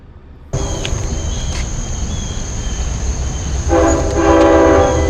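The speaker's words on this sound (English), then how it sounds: "Here comes train 664." A Long Island Rail Road commuter train arrives on the Port Jefferson Branch, its steady loud horn sounding over the rising rumble of the approaching cars, with wheel noise swelling toward the end.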